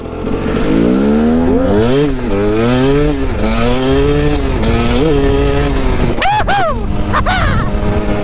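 A 2009 KTM 250 EXC dirt bike engine revs hard and loud up close, the pitch climbing and dipping through several gear changes before sharp final blips, with no talking.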